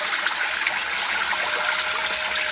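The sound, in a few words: water trickling through homemade evaporative cooler test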